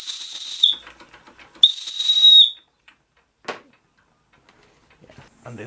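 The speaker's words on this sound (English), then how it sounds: "Let me blow the whistle off again because we're building up quite a lot of pressure" Steam whistle on a Stirlingkit Retrol SE-02 model steam engine gives two loud, shrill blasts of under a second each, then small clicks and ticks follow in a quiet space.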